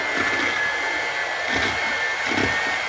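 An electric mixer runs steadily through sweet bread dough flavored with cinnamon, a continuous close whirring motor hum with slight surges as the beaters work, no voices over it.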